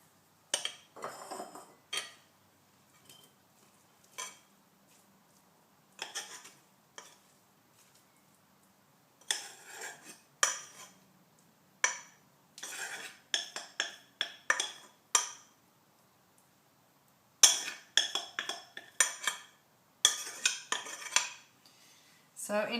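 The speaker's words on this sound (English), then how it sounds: "I'm actually going to tip it into a bowl" Cooked quinoa tipped from a pot into a bowl, heard as bursts of metal utensil scraping and clinking against the pot and dishes, close and fairly loud, with short quiet gaps between.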